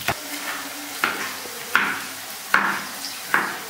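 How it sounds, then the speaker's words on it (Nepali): A spoon knocks against a pot while aato dhido, a thick flour porridge, is stirred, giving five sharp evenly spaced clunks, each followed by a short scraping rustle, close and fairly loud with no talking. "त्यसलाई मजाले चलाउने"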